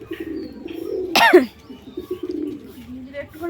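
Close, low pigeon cooing rolls on steadily beneath a person talking, with a sharp burst of noise partway through.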